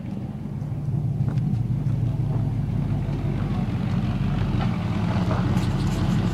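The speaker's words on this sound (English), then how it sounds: "Liam, put it in gear" A 1986 Oldsmobile Cutlass engine runs steadily with a loud, low rumble, continuous and close, as the car is shifted into gear.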